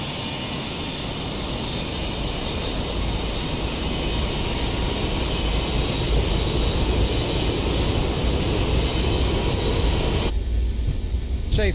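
Boeing 727-200 jet engines spooling up for takeoff in a flight simulator, a loud, steady broadband roar with a sustained high whine that holds throughout, then the upper hiss drops away abruptly near the end.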